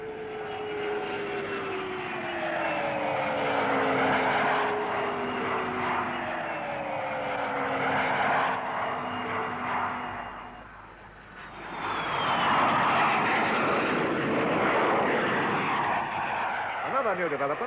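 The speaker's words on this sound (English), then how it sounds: "Now a new look in civil transport aircraft, the Trident. With 3 Spey bypass jet engines grouped at the rear" A Trident jet airliner with three rear-grouped Spey bypass engines flies past at an airshow, a loud whining roar with shifting pitch that dips briefly then swells again, heard under a narrator's voice.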